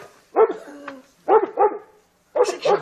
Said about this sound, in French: C'est les chiens du voisin.